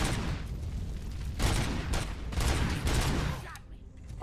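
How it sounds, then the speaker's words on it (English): Gunfire in the video game RoboCop: Rogue City, several loud bursts of shots at irregular intervals over a dense noisy background, with a brief quieter gap near the end. "I can't shoot further than a few meters with half of these bullets."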